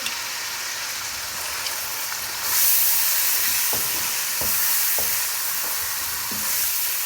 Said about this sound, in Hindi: हल्का सा हमने ऐसे भून लिया।